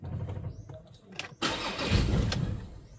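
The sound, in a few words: Ford Everest 2.2 engine cranking, starting then dying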